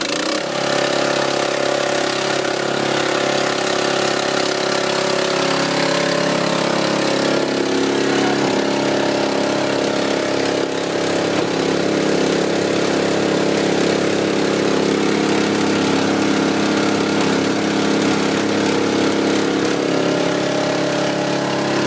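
A small engine on a mortar mixer runs loud and close in a steady drone for over twenty seconds, its pitch shifting slightly partway through as it settles, with no talk over it.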